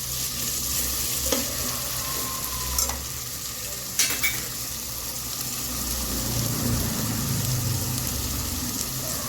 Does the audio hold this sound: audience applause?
no